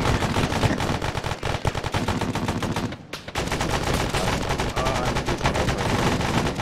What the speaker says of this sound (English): I hear a machine gun fire.